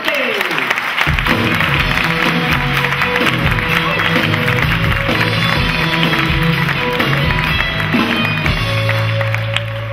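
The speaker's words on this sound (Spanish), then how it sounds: "¡Aplauso fuerte!" A crowd at a stand-up comedy show gives a loud, sustained round of applause as the comedian is introduced, with dense clapping, some cheering and music playing underneath throughout.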